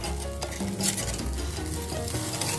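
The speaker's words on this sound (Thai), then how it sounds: "เราก็ใช้ไฟอ่อนนะคะ ย่างให้หอมนะคะ" Char siu pork grills over low heat with a steady, close sizzle and crackle. Small pops and spits run continuously with no voices.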